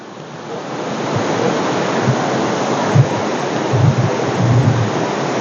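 A steady, loud roar of rushing water from a stream near a waterfall on the Kolakham to Lava route, a broad continuous wash with a few low thumps, no talking.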